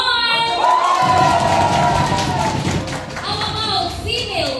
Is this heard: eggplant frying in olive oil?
no